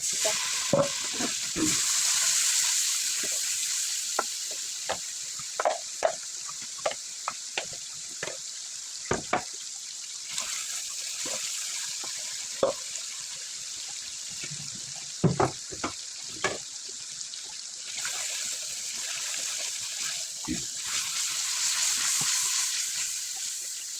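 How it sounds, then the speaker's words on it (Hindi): Tomatoes fry in a pan with red chili, whole coriander and turmeric, giving a steady loud sizzle and hiss broken by scattered clinks and scrapes of stirring. "इसको 5 मिनट फ्राई करना है ठीक है इसको टमाटर फ्राई करना है"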